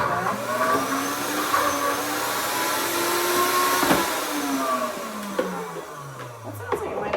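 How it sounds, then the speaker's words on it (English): Electric twist-and-chop food processor chopping onions, a steady whirring motor drone held for several seconds with a falling pitch sweep near the end, close and fairly loud in a home kitchen. "I have my electric twist and chop here"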